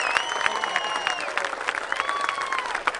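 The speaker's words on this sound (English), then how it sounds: "Let's give them a round of applause." Steady applause from a crowd with scattered cheers and whistles, filling the room without pause.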